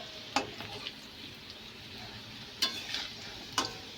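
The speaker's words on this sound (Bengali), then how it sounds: "এরকম লাল করে ভেজে নিতে হবে আলুগুলো" Potato pieces fry with turmeric in a pan, with a soft continuous sizzle broken by three sharp scraping clatters as they are stirred.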